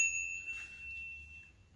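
A bell on a girls' vintage cruiser bicycle rings once and lets a clear metallic tone hang and fade slowly over quiet, low background noise.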